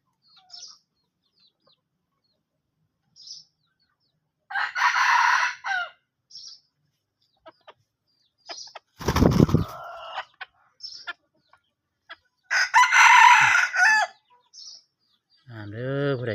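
Rooster on a Thai poultry farm crowing twice in long, loud calls, with brief clucks and chirps from hens scattered between them and one sharp close knock midway.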